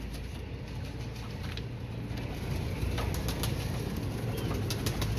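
Pigeons coo softly amid a steady low rumble, with faint wingbeats and rustling, and the sound grows a little louder partway through.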